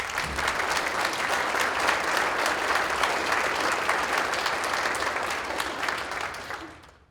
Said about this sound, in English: I'd just like to give a round of applause